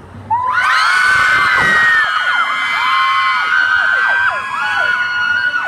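A large crowd at a mini-concert in a Bangkok shopping mall screams and shrieks together on a count of three, high-pitched, loud and sustained for several seconds, with whoops rising and falling throughout.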